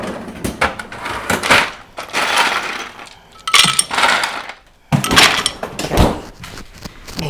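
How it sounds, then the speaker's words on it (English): Six or seven ice cubes are scooped for a pisco sour, giving repeated crunchy clinks and clatter in several loud, close bursts separated by brief pauses. "So we're just going to get like 6 ice cubes."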